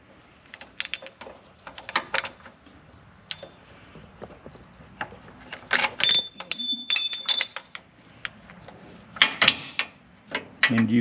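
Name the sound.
pulling Toyota Tacoma AC belt pulley off, metal clinking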